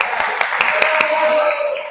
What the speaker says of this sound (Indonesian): tepuk tangan dulu untuk Rifki